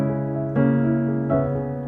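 A piano plays a short progression of three sustained chords from a song, each struck clearly and ringing close, alone without talk.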